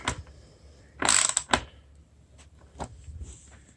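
A bolt is tightened into wood on a homemade electric mountainboard, giving a couple of loud ratcheting bursts followed by fainter, scattered clicks and mechanical ticks.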